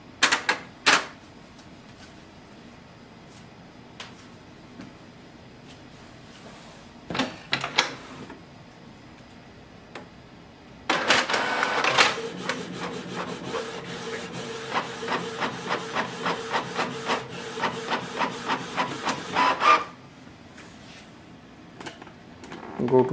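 A Canon PIXMA TS3725 inkjet printer prints a test page. Scattered clicks and short mechanical bursts open the clip, then a loud stretch of rapid, rhythmic print-head passes with paper feeding runs for about nine seconds before it stops with a few clicks.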